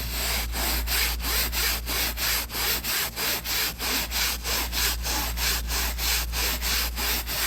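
A brush scrubbing cloth car seat fabric in quick, even back-and-forth strokes, a loud rhythmic rasping repeated steadily and close up with no talk.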